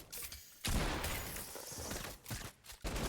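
Rapid machine-gun fire in an online shooter video game, loud and dense. The bursts are sustained, broken by brief pauses, and ring out alone without speech.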